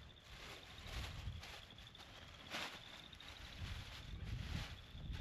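Wind blows steadily outdoors in a natural setting, a broad low rumble that swells in gusts against the microphone, with faint rustling mixed in and no voices.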